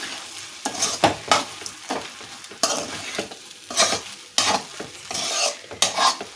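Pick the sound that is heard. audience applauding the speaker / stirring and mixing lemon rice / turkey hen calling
stirring and mixing lemon rice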